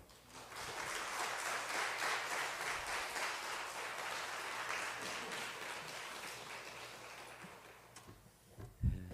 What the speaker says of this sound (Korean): 목사님 나오실 때 축복의 박수로 환영하겠습니다